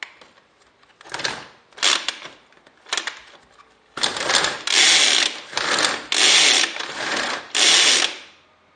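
A Fissler Fine Cut pull-cord chopper dices onions. The cord is yanked repeatedly, giving a series of loud whirring, rasping bursts that grow longer and stronger, separated by short pauses, all close up.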